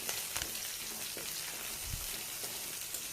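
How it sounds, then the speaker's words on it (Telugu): Green chillies, a medium chopped onion and curry leaves fry in a pan for a mushroom curry, giving a steady broadband sizzle with a few stirring clinks and scrapes, close and moderately loud with no talk. "2 పచ్చిమిర్చి కట్ చేసి వేసుకుని సన్నగా తరిగి పెట్టుకున్న ఒక మీడియం సైజు ఉన్న ఉల్లిపాయని, కొంచెం కరివేపాకు"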